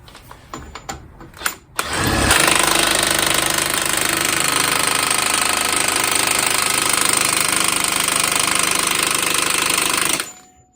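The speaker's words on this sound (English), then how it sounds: "this impact wrench on setting 2 is about the perfect torque" A pneumatic impact wrench on a low torque setting hammers an axle nut tight on a 1997 Honda Civic, a loud continuous rattling burst lasting about eight seconds after a few light clicks, then stopping abruptly.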